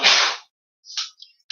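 A single sharp sneeze bursts out loudly, followed by a short pause and a couple of fainter breathy sounds.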